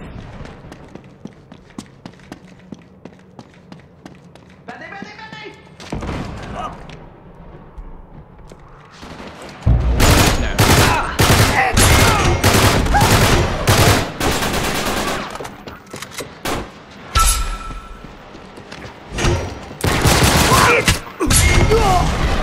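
Gunfire in Uncharted 3 multiplayer, sparse shots at first, then dense rapid bursts and automatic fire dominating the second half, loud and close, with occasional voices between.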